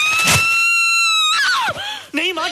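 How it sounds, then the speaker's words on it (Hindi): A woman screams in fright, a long loud sustained cry that breaks into shorter shrieking wails, close and alone with no talk over it. "माँ चिल्लाओ मत"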